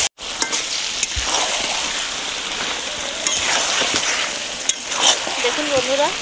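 Mutton and fried potatoes being cooked down in spices for a mutton curry, sizzling in the pan: a steady, loud, close hiss of frying with occasional sharp clinks of a stirring spoon.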